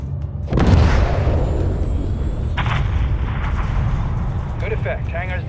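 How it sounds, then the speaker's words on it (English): A missile strike levels an enemy hangar in Call of Duty: Modern Warfare, a sudden loud boom bursting in after a quiet half-second, then a long rumbling roar of destruction with crackling debris and brief radio-style voices near the end. "have your man drop a missile on that hangar"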